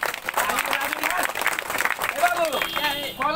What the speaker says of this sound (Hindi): ताली मारो, ताली